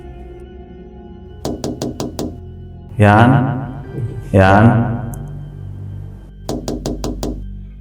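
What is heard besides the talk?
knocking on a door, horror story sound effect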